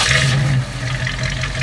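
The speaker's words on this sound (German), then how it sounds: "Vielleicht hören wir uns das Ganze nochmal an, wie das so klingt. 8 Zylinder, 289 Cubic Inch" A 1965 Ford Mustang convertible's 289 cubic inch V8 revs close by, a steady loud low engine drone that eases back slightly partway through, with nothing else over it.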